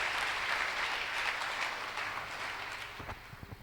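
Church congregation applauding in praise, a dense burst of clapping that stays full and steady before thinning out into scattered claps at the end.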